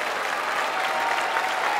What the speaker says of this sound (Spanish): Pido el aplauso más fuerte para mis compañeros músicos.